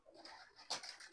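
A single pigeon gives a faint, soft coo, with one brief louder note midway through a quiet, short moment.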